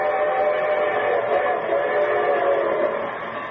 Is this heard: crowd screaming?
no